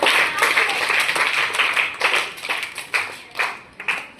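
Classroom quiz audience clapping for a correct answer, a burst of close, uneven hand claps that thins into separate louder claps toward the end.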